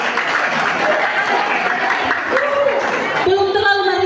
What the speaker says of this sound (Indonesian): Mari kita berikan tepuk tangan untuk Ibu Lita.